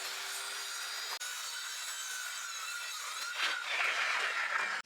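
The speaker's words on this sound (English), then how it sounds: "Now let me cut the plywood." Plywood being cut for a chicken nesting box, a steady close sawing rasp running almost five seconds with a brief break near the start and a slightly rougher, louder stretch toward the end.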